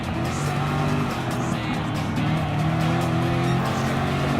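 Group 3 race cars, including a Corvette C7 in IMSA livery, roar steadily in Gran Turismo Sport, with loud, continuous engine drone and layered revving from several cars at once.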